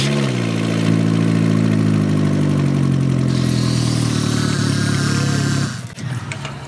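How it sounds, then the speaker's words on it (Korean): Engine of a badly worn Kia Morning with over 300,000 km running during an oil circulation test, a steady close idle with rising harmonics before cutting off near the end. "시동 걸어요."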